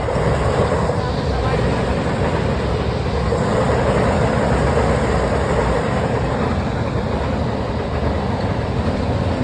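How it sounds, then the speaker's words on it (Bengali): A train passes by with a constant loud rumble and rattle of wagons that fills the whole stretch without a break. "দারুণ একটা লোকেশনে এসে ট্রেন"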